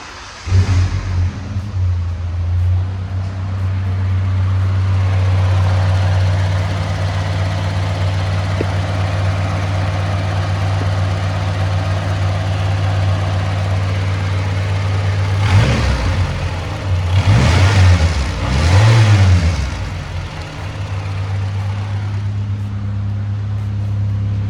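A car engine cranks and catches right away after maintenance and fuel-system priming, then settles into a steady, loud, close idle, with a few brief revs and bumps partway through.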